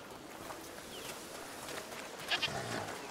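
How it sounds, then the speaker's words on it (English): Goats in the video game A Plague Tale: Requiem let out a couple of faint, brief bleats late in the clip over a quiet ambient background. "What's over there? Goats!"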